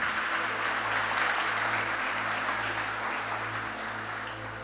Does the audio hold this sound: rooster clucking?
no